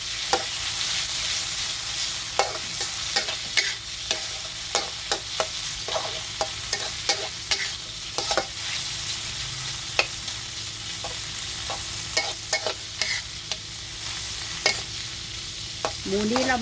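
Pork with garlic and shallots is stir-fried in a hot pan, a continuous loud sizzle punctuated by frequent sharp clacks and scrapes of a spatula against the pan in an irregular rhythm.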